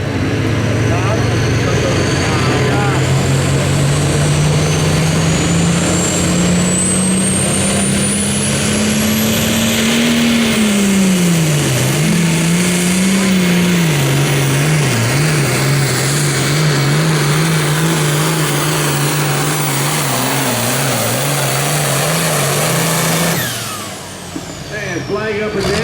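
An International 1206 tractor roars down the track at a Super Farm tractor pull in Rossville, Illinois, its loud engine note climbing steadily, wavering mid-run, then cutting off abruptly near the end.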